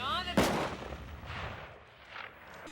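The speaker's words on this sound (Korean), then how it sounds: "총소리가 들립니다." A single sharp gunshot cracks out after a brief tone, followed by a fading echoing rumble, with faint background voices.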